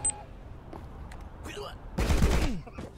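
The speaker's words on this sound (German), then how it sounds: "Oh, Granaten explodieren, wenn sie Gegner treffen." Grenade bursts in the side-scrolling game Rocketbirds: Hardboiled Chicken, with a short loud crackling explosion near the end following smaller clicks and effects, under a voice speaking German.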